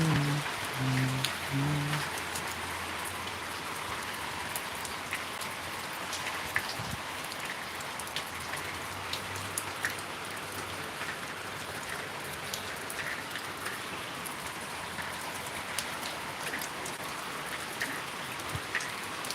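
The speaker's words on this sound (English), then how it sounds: "Right now, it's that season of too much rain." Rain falls steadily and heavily on surfaces outdoors during the rainy season, a dense continuous patter with no talk.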